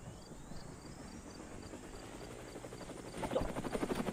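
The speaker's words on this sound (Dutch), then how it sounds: "Waar die helikopter? Ja, goed zo, je gaat een helikopter plaatsen." A helicopter in the Roblox game Mad City hums with a steady rotor drone and a faint whine, growing louder and more pulsing near the end, with no voices.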